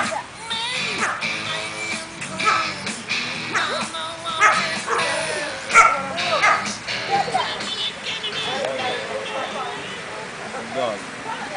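A small dog barks and yips in short, sharp bursts, with some whimpering between them, close by and mixed with people talking over it.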